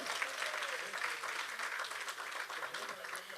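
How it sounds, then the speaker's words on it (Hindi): Audience applause for musicians at a live tribute concert, a dense wash of clapping from a crowd, fairly soft and continuous, with a faint voice or tone briefly audible within it. "एक बार जोरदार तालियां हो जाएं इनके लिए।"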